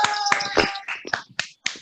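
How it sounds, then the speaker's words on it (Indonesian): Children clap for a classmate during a Sunday school quiz, with a brief, uneven patter of close claps that thins into a few separate, sharp slaps. "Tepuk tangan buat Nando."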